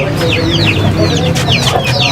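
Hens with chicks clucking in a cage at a Lahore bird market, steady overlapping clucks and high chick peeps close by, with a constant low hum of background market noise.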